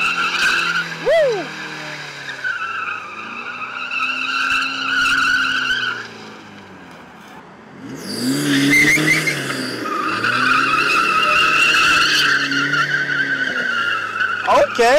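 A Nissan 350Z drifting lets out long, loud tire squeals over a revving engine, with a brief lull in the middle before the screeching and engine roar build again, close and sustained.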